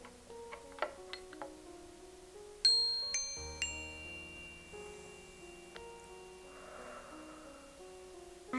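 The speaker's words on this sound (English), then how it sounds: "I ring the bell and breathe in." A meditation bell struck a few times at home, faint, clear ringing tones with a slow decay in a quiet room, along with a few soft ticks and taps.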